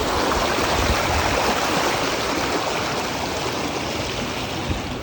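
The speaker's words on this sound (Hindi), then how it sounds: "मुझे ये पानी का जो आवाज़ है" River water rushing past after severe flooding beneath a high flyover, a continuous loud broadband roar of flowing current with no pauses and no voices.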